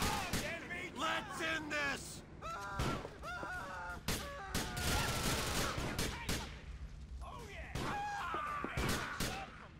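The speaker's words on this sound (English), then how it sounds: "how are those bullets not hitting?" Gunfire in GTA IV The Lost and Damned sounds as irregular volleys and single sharp shots, mixed with shouting voices and an ongoing noisy street fight.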